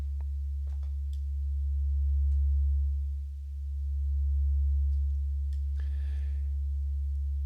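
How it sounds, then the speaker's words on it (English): A steady, pure sine tone from FM synthesis in Pure Data hums low and constant, swelling slightly in volume midway, with a few faint clicks and a brief noise burst. "to make it a sine wave or a cosine wave"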